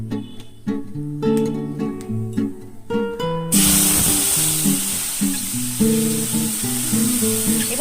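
Mustard, poppy seed and green chili paste drops into hot oil already seasoned with black cumin and breaks into a loud, steady sizzle, with background music playing over it.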